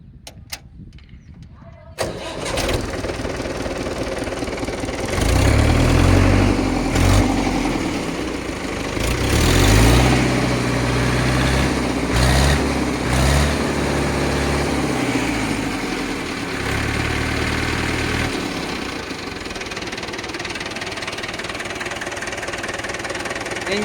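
A Mahindra 475 tractor diesel engine cranks on the starter after a moment of quiet, catches, and settles into a loud, steady, knocking idle that rumbles close by for the rest of the stretch.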